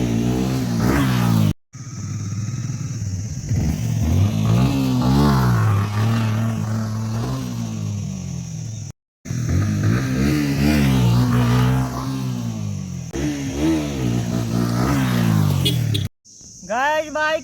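A Yamaha R15 V3 motorcycle revs hard and loud during a wheelie stunt, its engine note rising and falling in long wavering pulls, broken by two brief drops near the start and middle.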